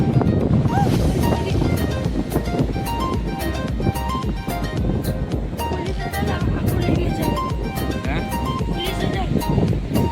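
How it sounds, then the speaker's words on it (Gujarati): Sea waves rolling onto a rocky shore during the monsoon, a steady loud wash of surf and wind noise filling the whole stretch while voices talk over it. "આ દરિયો છે ને જાન લેવા દરિયો છે"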